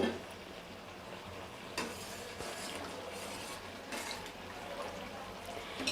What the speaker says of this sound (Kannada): ಈ ನೀರನ್ನು ನಾನು ಗ್ರೇವಿಗೆ ಆ್ಯಡ್ ಮಾಡ್ಕೊಳ್ತಾ ಇದ್ದೀನಿ